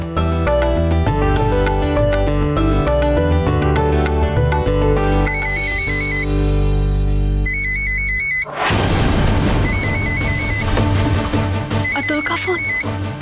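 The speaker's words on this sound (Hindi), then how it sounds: "अतुल का फोन, अब क्या करूं?" A phone ringtone plays a repeating electronic melody over background music, the ringing pattern recurring in short bursts.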